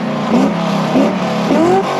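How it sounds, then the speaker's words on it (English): A car engine revs loudly nearby in short repeated bursts, three quick throttle blips rising in pitch over a constant rumbling idle. "Oh, that sounds nasty. Okay, I'm gonna turn it off now."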